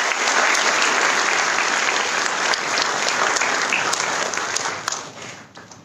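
A large crowd of newly joined students at an orientation claps loudly, a thick continuous roar of applause that stays full before tapering off near the end.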